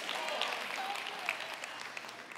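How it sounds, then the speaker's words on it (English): Soft, scattered golf clap from a church audience, a steady patter of light hand claps spread through the room at moderate level with no voices over it. "I feel like I'm at the British Open, that beautiful little golf clap there"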